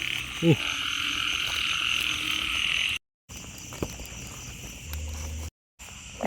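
Frogs croak at night in rain, with a loud chorus of croaks and insect-like trilling running steadily throughout, broken by a couple of brief silent gaps.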